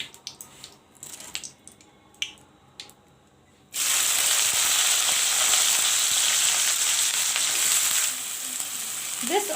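Capsicum fries in a pan for vegetable chow mein. Quiet clinks and taps come first, then a loud, steady sizzle starts suddenly and holds, easing slightly near the end.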